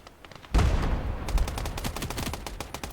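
Rapid bursts of automatic gunfire from a war video game set in Finland, a sudden loud opening volley followed by a steady rattling stream of shots, close and sharp, with no talk over it.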